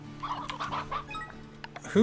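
Sea hens from the game Slime Rancher 2 cluck in quick, bird-like bursts, several short calls in a row, with a louder squawk at the end.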